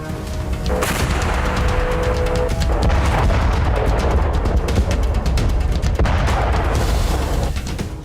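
A loud, deep artillery cannon blast, from a gun able to fire tactical nuclear shells, opens with a sharp crack and long rumbling roll, followed later by another heavy boom.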